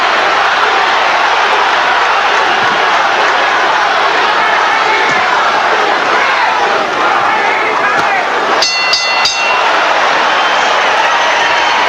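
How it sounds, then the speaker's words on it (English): A dense boxing arena crowd chants "Tommy" during the Sugar Ray Leonard vs Thomas Hearns rematch for the WBC super middleweight title, a loud continuous roar of many voices with a few sharp clicks near the end. "Crowd chanting, Tommy,"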